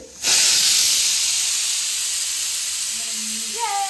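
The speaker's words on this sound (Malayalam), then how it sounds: "മീമിയുടെ പുതിയ കുക്കറിലെ വിസിൽ." A loud, steady hiss of escaping steam bursts from a pressure cooker and holds for several seconds, with a faint whistling tone rising near the end.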